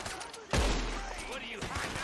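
Gunfire in the Red Dead Redemption 2 video game, a loud close blast followed by a sustained rumbling volley, with a voice shouting over it.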